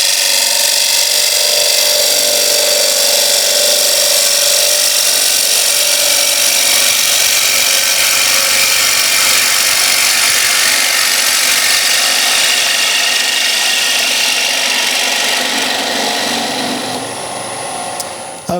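A wood lathe spins a bowl on a vacuum chuck while a gouge cuts with its bevel rubbing, giving a loud, steady, close whirring and shearing that runs unbroken before tapering slightly at the end.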